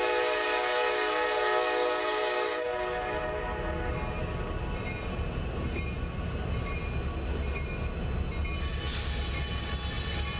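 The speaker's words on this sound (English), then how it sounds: "a manifest led by Kansas City Southern EMD power gets the clear to pass through the junction" A Kansas City Southern manifest freight train led by EMD locomotives passes through a junction, a horn sounding at first over throbbing diesel engines, then steady rumble and clatter of wagons rolling by close and loud.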